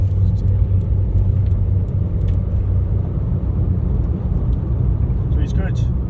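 K11 Micra 1 litre car driving gently in a private car park, a steady low engine rumble close by, with a voice talking over it.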